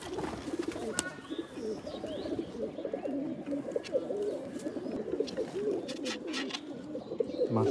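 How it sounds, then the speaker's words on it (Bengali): Rajshahi Giribaz pigeons cooing steadily close by, with soft overlapping low coos running throughout and a few faint chirps above them. "মাশাল্লাহ অনেক সুন্দর কবুতর।"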